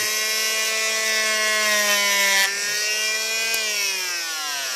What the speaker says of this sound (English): cuts the slot for the fin.